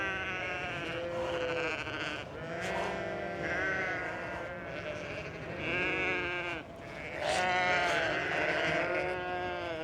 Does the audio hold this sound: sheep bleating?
yes